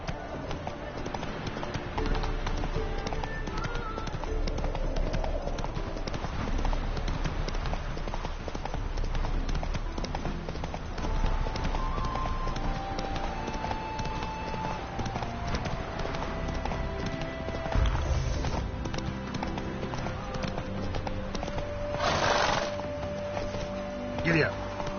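Roach, Geralt's horse in The Witcher 3, gallops with rapid, continuous hoofbeats under a game soundtrack and ambient noise throughout.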